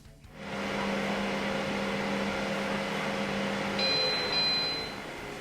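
An air fryer baking potatoes runs with a steady close mechanical hum and fan whir, joined near the end by a couple of high electronic tones.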